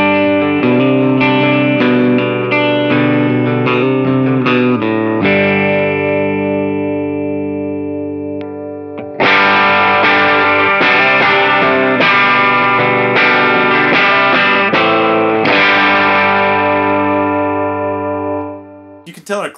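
Stratocaster electric guitar played clean through a Fender Blues Junior Humboldt Hot Rod Edition amp with delay, its middle pickup ringing loud sustained chords and picked notes that fade, a pause near nine seconds, then renewed strumming.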